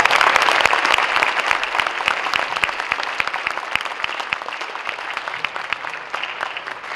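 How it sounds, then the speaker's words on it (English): A high school concert audience applauds a school band, a steady dense wash of clapping lasting the whole stretch and slowly tapering in loudness. "Can you please give them one more round of applause?"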